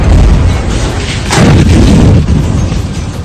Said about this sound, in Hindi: ऐसा धमाका जिसकी गूंज 450 किलोमीटर दूर राजधानी कीव में भी सुनाई दी